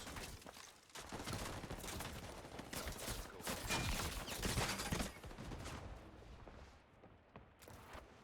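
Heavy, continuous gunfire in the Highguard video game, with dense overlapping bursts and booms that rise to a peak mid-clip and then thin out near the end.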